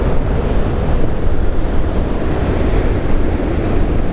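Strong wind at the seaside quay of Heartland Quay buffets the microphone with a loud, continuous low roar, and surf is likely mixed in beneath it. No one speaks.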